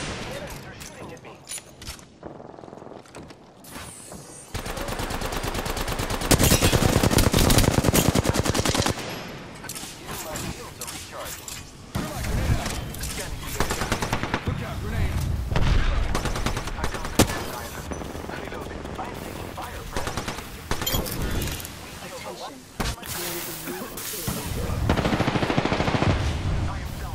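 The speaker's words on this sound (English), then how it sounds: "enemies are shooting at me" Enemies shooting in a video game: heavy, repeated automatic gunfire and bursts throughout, loud and close, mixed with explosions and game effects, with a voice talking over parts of it.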